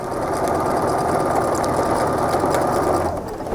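A sewing machine stitching patchwork strips for a rail fence block, a rapid steady mechanical whirr that runs continuously up close.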